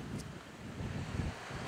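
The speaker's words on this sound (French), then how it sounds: "il faut se protéger du vent car je perds l'équilibre là" Strong wind on the beach at Collioure buffets the microphone in a continuous roaring rush, with surf-like surges rising and falling close by and no voices.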